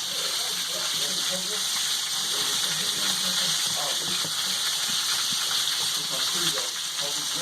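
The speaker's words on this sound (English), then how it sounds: "I'm going to let these saute a little more" Ingredients for a Peruvian-style pot roast sauté and sear in a pan, giving a steady broadband hiss and sizzle with a watery bubbling edge, continuous and close throughout, with a voice speaking faintly underneath at times.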